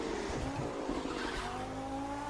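Race car in The Crew 2 on a street circuit: a revving engine and screeching, skidding tires, with a rising engine whine that sounds loud and close throughout.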